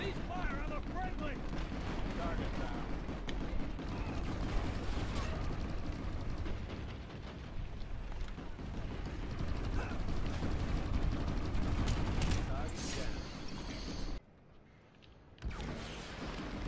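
Gunfire in a PlanetSide 2 battle on Indar, a continuous dense wash of shots and explosions under voices, breaking briefly into near silence before resuming.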